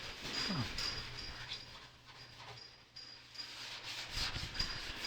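Hand sanding on a truck door being prepped for a final paint job, a steady abrasive rubbing scratch that runs continuously at close range, with brief breaks in the strokes.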